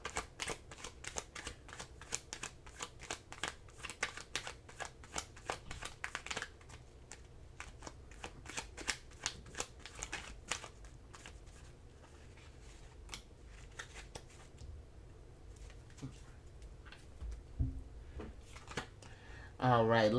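Oracle cards being shuffled and handled, a steady run of quick papery riffles and taps close by for about twenty seconds, with a louder rustle right at the end.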